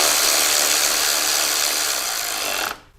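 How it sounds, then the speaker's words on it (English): A ratchet wrench snugging an acorn nut on a motorcycle's chrome inner primary cover gives a loud, close, continuous rapid clicking that cuts off abruptly near the end. "we take our wrench and we can tighten up this acorn nut in the back now"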